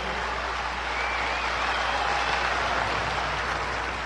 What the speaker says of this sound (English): they deserve a big round of applause.